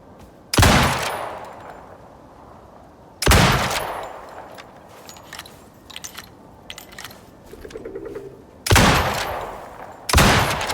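Gunfire in a video game with attackers being shot at: several loud, sharp bursts spaced seconds apart, with quieter mechanical clicks and rattles between them.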